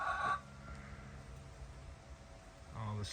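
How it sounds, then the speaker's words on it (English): Backyard chickens cluck and call from a short distance, brief bursts at the start and end with quieter low murmuring between, faint overall and mixed with someone talking. "they're good birds. They make eggs."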